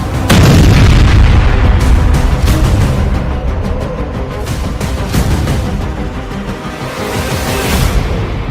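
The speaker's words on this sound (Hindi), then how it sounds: "एक धमाका" Missile strike on a weapons depot, a heavy booming explosion opening with a sharp blast and rolling into a long, loud, rumbling roar that stays dense and powerful throughout.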